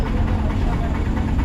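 A motorcycle engine idles nearby near Thotlakonda beach, Visakhapatnam, with a low, rumbling, steady drone, heard alone and close for a brief moment.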